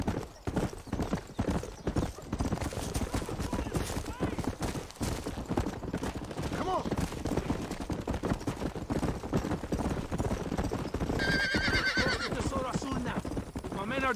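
Horse galloping in the Red Dead Redemption video game, a continuous rapid clip-clop of hooves at close range with a whinny, heard amid rumbling game noise and voices.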